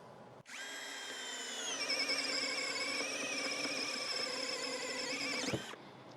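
A Gen 2 Hyper Tough 4 in 1 installation driver, model CD0801, runs continuously for about five seconds, a steady whining motor hum that rises slightly in pitch, then cuts off abruptly.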